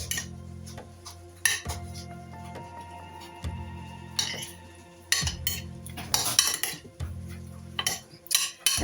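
Shrimp and calamari tossed with Old Bay seasoning in a bowl, giving repeated clinks and scrapes of a utensil against the dish in short irregular bursts, close and fairly loud with no talking.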